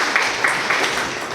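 An audience at a Martyrs' Day lecture gives a speaker a round of applause, with a brief burst of dense, steady clapping that fills the room at close range.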